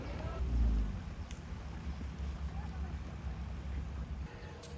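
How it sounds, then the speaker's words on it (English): Longtail boat engine on Koh Ngai island in Thailand, a low, continuous droning rumble that swells briefly near the start and then holds steady, mixed with wind buffeting the microphone. "The only noisy thing are the longtail boats"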